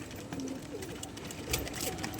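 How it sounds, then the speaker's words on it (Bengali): Soft coos and fluttery murmurs rise from nearby female pigeons feeding in a loft, low and steady against a muffled outdoor background. "সব মাদি পায়রা খাচ্ছে সব নেমে গেছে"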